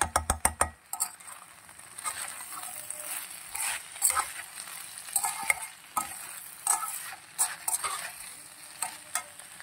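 Broad beans (chikkudukaya) with ginger garlic paste fry in a pan, a busy close sizzle broken by frequent spatula scrapes and clinks against the metal. A few sharp taps come at the start, with no speech.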